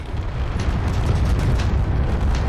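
Heavy weapons fire pounds a ship's hull in StarCore, a dense, continuous rumbling barrage of deep booming impacts at steady loudness.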